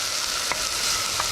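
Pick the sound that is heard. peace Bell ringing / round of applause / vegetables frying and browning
vegetables frying and browning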